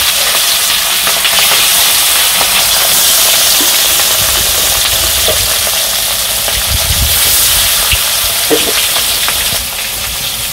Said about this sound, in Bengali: তেলটা গরম হয়ে গেছে, আমি মাছটা দিয়ে দিই।